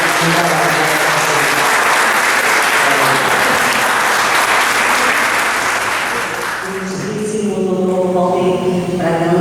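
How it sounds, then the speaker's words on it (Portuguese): Sustained, loud applause from the audience at an academy of letters induction ceremony, a thick even wash of clapping that fades slightly near the end as a voice begins speaking. "Parabéns, os aplausos de todos que vieram."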